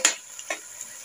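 Onions, tomatoes and ginger fry in a pan for small-squid adobo, a soft sizzle broken by two or three quick stirring scrapes, brief and fairly quiet.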